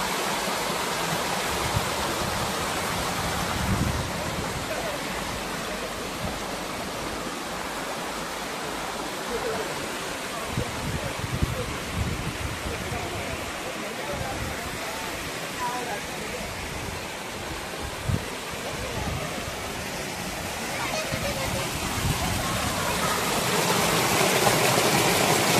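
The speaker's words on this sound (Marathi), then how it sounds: "खूप एन्जॉय करू शकू असा धबधबा आहे." A waterfall near the Daryayi Mata temple roars in a steady, close, dense rush of water that holds level throughout, with no clear breaks.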